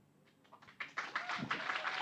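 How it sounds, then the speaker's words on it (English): An audience applauds Chef B after a presentation on Californian cheeses. The clapping starts as a few scattered claps and swells within a second into full, dense applause that holds to the end. "Round of applause for Chef B for the amazing presentation and everything A to Z about Californian cheeses"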